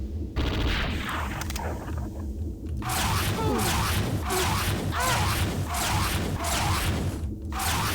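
Rapid bursts of weapon fire in the game Redneck Rampage repeat in a steady pulsing rhythm, loud and sustained over busy electronic background noise.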